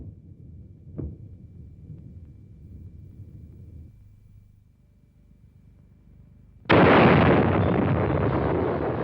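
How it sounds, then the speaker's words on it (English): A bomb explosion of more than 50 million tons of TNT: a deep rumbling blast starts with a sharp pop, fades into a low roll, then a loud broadband roar surges in and sustains to the end. "The explosion was the equivalent of more than 50 million tons of TNT"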